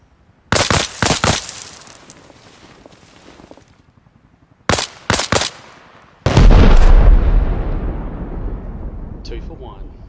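Gunfire in a shooting video game at a construction site: sharp, loud shots come in quick clusters of three or four, separated by short pauses, then a heavier blast with a long rumbling decay.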